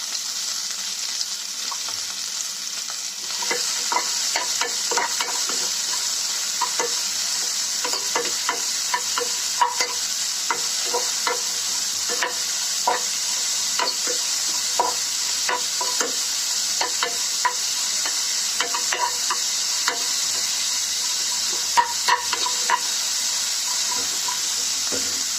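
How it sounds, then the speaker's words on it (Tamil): Garlic and onion with salt sautéing in a pan, a steady soft sizzle under repeated scraping and stirring clinks throughout, close and continuous. "ஒரு 4-5 பல் பூண்டு போட்டு வதக்கிக்கலாம். கொஞ்சம் வெங்காயம், வெங்காயம் வதங்கிறதுக்காக உப்பு போட்டுக்கலாம்."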